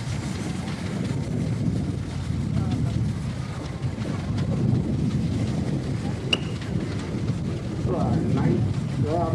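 An antique steam engine from the Western Dakota Antique Club rumbles steadily as it is driven in a parade of antique tractors and steam engines, low churning mechanical noise mixed with outdoor wind buffeting the microphone.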